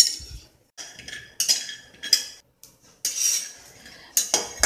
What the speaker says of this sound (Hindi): अब मैंने एक पैन गरम करने रख दिया है, उसमें 1/4 कप शेंगदाना डालकर उसे रोस्ट कर लेंगे